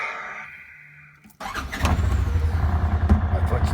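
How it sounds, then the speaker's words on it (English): A Polaris Ranger 1000 utility vehicle starts after a brief cranking sound. It settles into a steady, close, rumbling idle. "I'm going to start it up."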